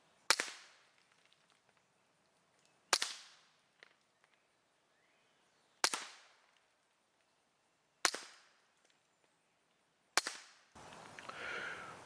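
Five suppressed .22 rimfire gunshots through an OSS RAD 22 suppressor, fired from a Ruger 10/22 Takedown or Ruger Mark IV 22/45, sharp cracks spaced a few seconds apart, each fading quickly, with a rustle after the last.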